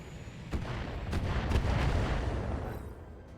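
Turret artillery booming in the BattleTech game, several heavy blasts in quick succession with a rumbling low end, fairly loud and close, no talk over it.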